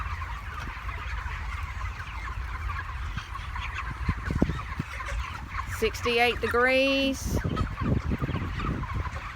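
Poultry birds in a climate-controlled farm house kept near 68 degrees make a constant dense chorus of clucks and calls, with a louder nearby squawk in the middle, while a person talks briefly over it.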